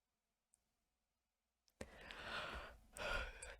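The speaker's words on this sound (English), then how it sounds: "Don't yawn, you'll make me yawn." After a near-silent start, one person close by gives a long, breathy yawn, then a second drawn-out exhale.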